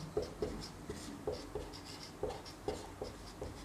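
Chalk or marker writing on a classroom board during a biology lesson, a steady series of short scratchy strokes with soft taps, close and fairly quiet, with no talking over it.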